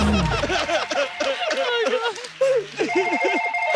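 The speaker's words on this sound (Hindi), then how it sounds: "सर, मेरे को फोन आया, मैं उठा सकते हैं प्लीज?" A telephone rings with a warbling, repeated electronic ringtone during a comedy talk show, the trilling bursts pulsing in quick rhythm through the whole stretch while voices and studio sounds mix underneath.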